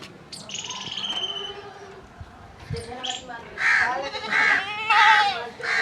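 Goats bleat repeatedly and loudly nearby as they are let out of their pen, several strident calls in quick succession, with a voice talking in between.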